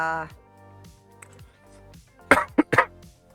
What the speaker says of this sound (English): Stupid coughing.